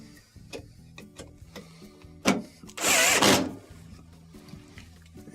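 A power driver reinstalls 5/16 screws through the back of a KitchenAid washer cabinet during a water inlet valve repair. Scattered clicks and knocks of handling surround one short, loud whir of the driver near the middle.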